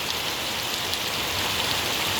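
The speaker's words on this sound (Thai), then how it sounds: "ฝนตกพี่น้องเอ้ย" Steady rain pours down over a durian orchard, a dense, even hiss of drops on leaves and surfaces with no pauses and no voices.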